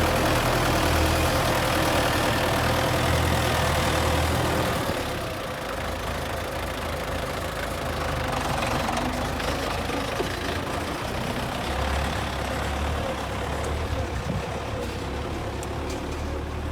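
An MTZ tractor fitted with a loader digs earth and carries it elsewhere, its medium diesel engine rumbling steadily near the microphone, louder at first then settling to a lower working drone.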